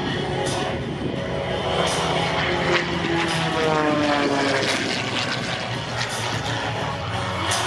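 An MX MXS propeller aerobatic airplane performing at an airshow, its engine a continuous loud rasping drone that rises and falls in pitch as it tumbles and maneuvers overhead, with no talk.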